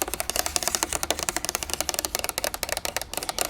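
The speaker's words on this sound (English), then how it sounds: "There's a bit of space between the plastic box and the paper, and it really gives for a nice sound." Fingertips tap fast on a plastic box with paper inside, a dense, loud, close run of crisp hollow clicks with no talking.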